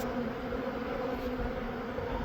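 Steady, close, continuous buzzing of honeybees gathered for a varroa mite test, a hum with no pauses and no talk.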